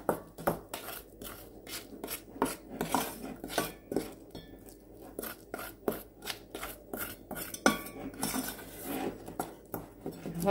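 A spoon stirs a sugar glaze made with about three dessert spoons of water per 200 grams, clinking and scraping against the bowl in a steady run of close, sharp taps and rubs with no voices.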